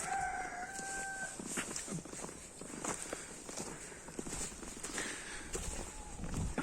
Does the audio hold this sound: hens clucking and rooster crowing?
yes